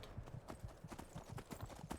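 Horse hooves clip-clop at a steady walking rhythm in the modded Skyrim Special Edition game world, close and fairly loud, with faint game ambience beneath.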